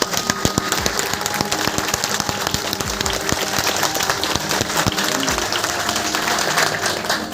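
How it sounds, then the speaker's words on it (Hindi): An audience at a direct selling company event bursts into loud, dense applause, continuous sharp clapping close by for several seconds. "मैं चाहूंगा एक बार जोरदार तालियां"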